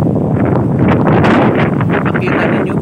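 Strong, blustery wind from Typhoon Mawar in Marilog District, Davao City, Mindanao, roars and buffets the microphone continuously, with gusts rising and falling throughout.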